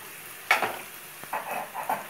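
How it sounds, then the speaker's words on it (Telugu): Onions frying in a pan while being stirred, a soft continuous sizzle with a few close spoon scrapes against the metal, quiet and without talk. "ఈ ఉల్లిపాయల్ని ఇలా వేయించుకొని మనం ఉల్లిపాయలు వేగేదాకా ఇలా వేయించుకోవాలన్నమాట"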